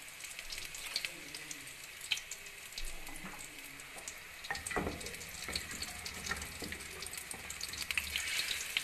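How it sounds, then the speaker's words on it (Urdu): Water poured from two glasses into a pot of browned mutton aloo gosht, splashing and sizzling in quick bursts over soft kitchen background noise. "یہ 2 گلاس پانی ہم اس میں شامل کریں گے"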